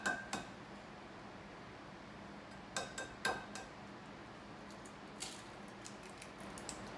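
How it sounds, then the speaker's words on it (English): An egg is cracked in a kitchen while making cheesy zucchini fries, heard as a few faint, close taps and clicks spread over several seconds against quiet room noise. "Now we're gonna crack 1 egg."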